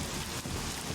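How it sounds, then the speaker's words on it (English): Steady rain falls in the video game The Medium, a dense, even hiss of droplets with no breaks over a short moment. "like the sound of the rain is more than enough"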